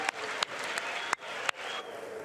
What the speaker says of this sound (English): Speaker Ryan and the members of his GOP caucus applaud the passage of the biggest tax cut and revision